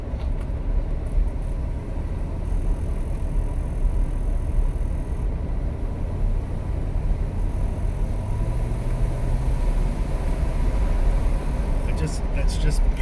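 1977 Pontiac Grand Prix SJ engine pulling at part throttle, a steady, continuous mid-level drone heard from inside the car, with a brief rise near the end suggesting a gear shift.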